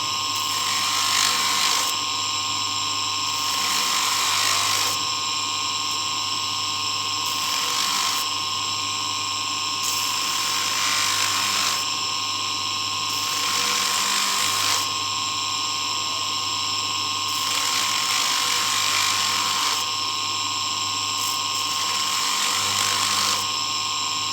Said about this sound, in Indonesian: sekarang sisi luarnya juga kita ampas